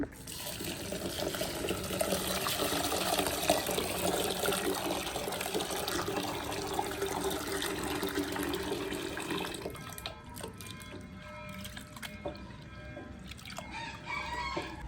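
Water sloshes and swirls steadily close by as rice and lentils are rinsed by hand, with a rooster crowing faintly in the background.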